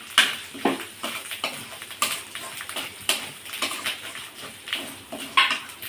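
Fried potatoes tumble into a cooking pot with jackfruit seeds for a Bengali curry with native chicken eggs, giving a series of soft clinks and light knocks of metal and food spaced irregularly, close and fairly quiet.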